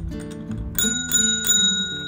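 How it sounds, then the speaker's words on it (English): A rustic metal bell rings three times in quick succession, bright and close, with its tones ringing on between strikes. "Yep, it rings, y'all."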